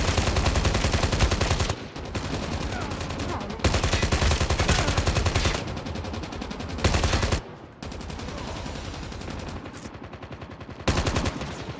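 Loud bursts of automatic gunfire from an Android shooter video game, fired in long runs separated by brief pauses, close and harsh with nothing else in between.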